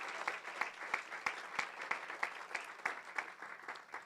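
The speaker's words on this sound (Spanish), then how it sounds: "Fuerte ese aplauso para Él, por favor." A church congregation applauds loudly during a sermon, with strong, fairly rhythmic clapping that sounds close and continuous for a few seconds.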